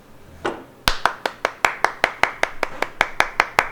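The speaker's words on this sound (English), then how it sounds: "Clap your hands." Group hand clapping in a steady rhythm, about fifteen sharp, evenly spaced claps in quick succession after a single softer lead clap, close and clear with no talk.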